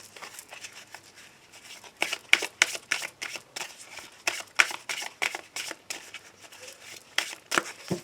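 Petit Lenormand cards riffle and slap through repeated bursts of shuffling, soft at first and then louder and brisker, close up with no talking.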